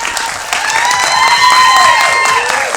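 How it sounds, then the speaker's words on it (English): Audience applause after a film festival Q&A screening, a full, sustained burst of clapping with a few whistles or cheers cutting through and a faint tonal whine running underneath. "Let's give them a round of applause"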